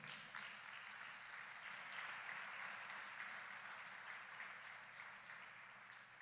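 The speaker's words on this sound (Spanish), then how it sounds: "Denle un aplauso al Señor." A church congregation at a Sunday school service applauds, a faint, distant wash of clapping that holds steady for several seconds without talk over it.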